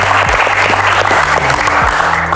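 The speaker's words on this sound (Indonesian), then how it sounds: "Tepuk tangan dulu buat Sherly" Dense applause from a seated audience honoring Sherly at a talk-show style event, loud and continuous from start to finish, with a low voice or hum briefly underneath.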